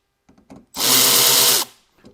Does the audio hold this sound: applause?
no